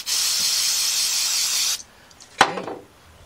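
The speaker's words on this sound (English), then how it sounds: "take your carburetor cleaner, let's clean this valve" Carburetor cleaner sprays in a steady, loud hiss onto a valve pulled from a Volkswagen Beetle cylinder head for about two seconds, then cuts off, followed by a brief clatter of the part being handled.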